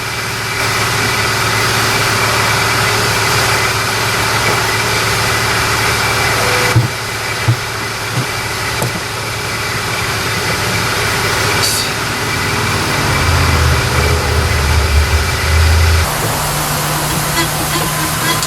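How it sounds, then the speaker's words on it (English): A PJS Viper reed-spaced 78 horsepower twin carb jet ski motor runs loud and close with a steady idling drone, revving up briefly toward the end, alone without talk. "what I have is a PJS Viper reed-spaced 78 horsepower twin carb motor"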